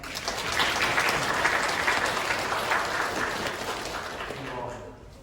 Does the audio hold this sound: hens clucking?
no